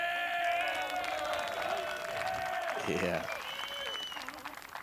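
A hometown crowd at a disc golf tournament finish cheers and applauds from a distance, a broad steady wash of clapping under commentators' talk.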